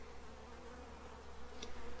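A mass of honey bees drones around an open hive being inspected in mid-July, a continuous close buzz that swells slightly toward the end, heard alone without speech.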